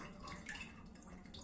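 Water running from a tap with no nozzle attachment fitted, a faint, steady splashing rush that stays even throughout and is heard alone.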